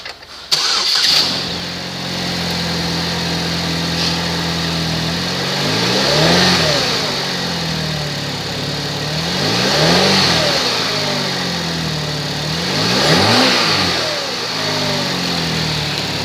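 A 2011 Chevrolet HHR with 172,493 miles cranks and catches, then settles into a steady idle broken by three smooth revs that rise and fall at even intervals, close and loud with no talking.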